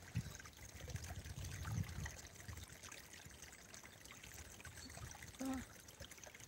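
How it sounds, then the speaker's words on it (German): Babbling stream in a peaceful valley, water trickling and splashing over stones in a soft, continuous flow at moderate distance, with a few brief louder gurgles and faint high bird calls above it. "das Plätschern ist relativ laut"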